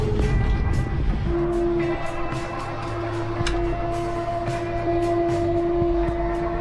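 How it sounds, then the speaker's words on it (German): A passing freight train sounds a long, steady horn blast over the loud rumble and rattle of its cars, the horn holding for most of the stretch with a brief dip partway through. "da kommt ein Zug, ein Vorbeifahrender"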